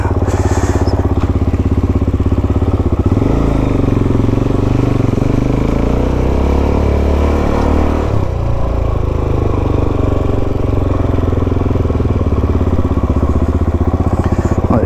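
Several motorcycles turning up, engines idling and revving close by in a loud, continuous rumble that swells and shifts as bikes arrive.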